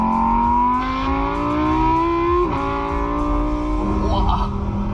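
An STO sports car with a 640-horsepower engine revs, its tone climbing steadily in pitch, dipping briefly, then rising again with a growling, close, loud engine note.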